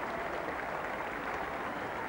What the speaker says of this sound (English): A warm round of applause for his efforts.